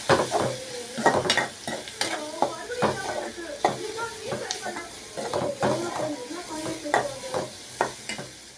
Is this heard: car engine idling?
no